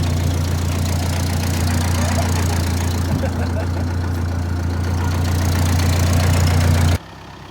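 A Ford 4000 tractor engine idling in neutral, a loud steady low diesel rumble with a faint knocking beat, held close and unchanging for about seven seconds before cutting off abruptly.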